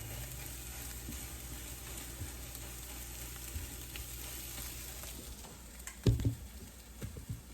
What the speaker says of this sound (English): So we're cooking scrambled eggs